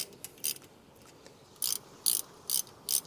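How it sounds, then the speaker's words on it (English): On a 2007–2018 Jeep Wrangler JK, a 13mm socket on a ratchet and torque wrench tightens the rear brake caliper bolts, giving short bursts of quick metallic clicking, close and crisp, separated by pauses. "we'll use our 13mm socket and a torque wrench, and we will torque these down to 28 foot-pounds"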